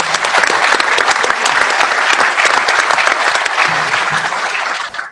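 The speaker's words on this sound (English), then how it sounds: "Let's give John a round of applause." An audience at a value investing panel claps steadily and loudly for about five seconds, a dense, close round of applause that tapers off at the end.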